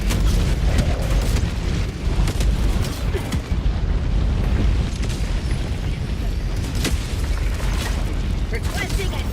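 Grenade blast in Helldivers 2 amid continuous heavy combat, dense booming explosions and gunfire crackle filling the whole stretch at high loudness, with occasional voices.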